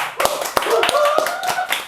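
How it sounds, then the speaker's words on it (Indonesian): Scattered handclaps from a small audience at a comedy-style league show, sharp claps spread across a couple of seconds with a voice and tonal sounds running underneath. "beri tepuk tangan"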